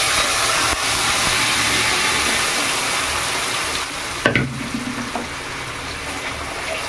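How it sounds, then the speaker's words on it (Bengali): Dal lentils hit hot oil with fried onion and garlic, a loud steady sizzle like rushing water that softens after a sharp splash, followed by faint stirring knocks. "এবার আমি ডালটা ঢেলে দেবো।"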